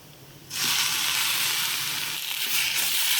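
Chopped tomato dropped into hot egg curry masala bursts into a loud, bright sizzle after a quiet half second, then keeps hissing steadily up close with light stirring scrapes.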